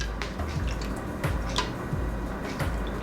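Water poured into corn flour in a bowl while making orange-colored halwa, heard as close, soft dripping and splashing with small squishy liquid sounds at a steady moderate level.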